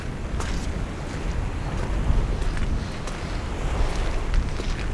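Cold wind gusting across the shore of Pangong Lake in Ladakh, a constant loud rushing buffet against the microphone with brief bursts, no voices.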